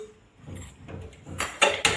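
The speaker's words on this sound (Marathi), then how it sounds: "सर्वप्रथम कढई ठेवूया" A kadhai wok set down on a home gas stove, with soft scraping and shuffling followed by a few sharp metallic clanks near the end, close and fairly quiet.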